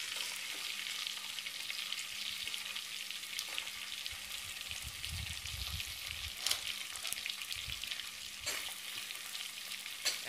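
Onions fry in oil with curry leaves for a mung dal curry, giving a continuous soft sizzle that stays fairly faint and even throughout, with a few small clicks of the pan and a low rumble midway.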